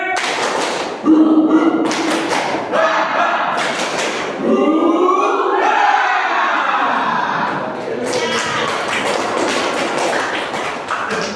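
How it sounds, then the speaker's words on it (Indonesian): Teachers and participants in a classroom training session perform a rhythmic Indonesian clapping chant, with patterned bursts of claps alternating with group voices calling out, fairly loud and close, ending in a final clapping section. "Tepuk semangat."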